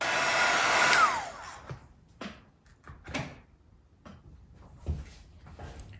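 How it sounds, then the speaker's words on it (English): A hair dryer drying gouache and metallic paint on paper blows loudly for about a second and winds down, followed by scattered small knocks and clatter as things are handled. "Okay, dryer time."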